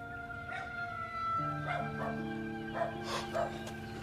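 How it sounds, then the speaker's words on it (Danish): A dog in a film scene gives a few short barks and yips over a steady background with faint tonal hum, spaced irregularly across the moment, moderately close. "Der er en hund."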